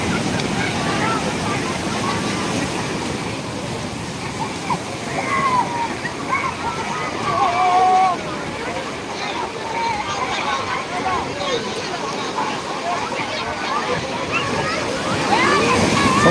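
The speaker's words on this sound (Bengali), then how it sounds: "সমুদ্র কিন্তু এখনও পর্যন্ত প্রচুর পরিমাণে উত্তাল রয়েছে" Rough sea surf at Digha beach during high tide roars continuously, waves surging and crashing in heavy, churning swells, with faint voices in the background.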